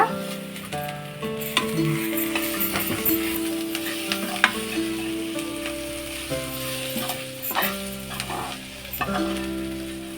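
Ginger-garlic paste frying in hot oil for double masala chicken sambar, with steady close sizzling and scraping stirs under tonal background music, occasional sharper clinks of a utensil against the pan.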